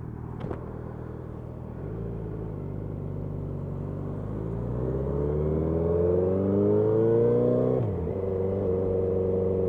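A car drives on the R30 ring road around Bruges. The engine hums steadily, then its pitch climbs smoothly as it accelerates through the gears, with a shift near the end, close and continuous with no talk.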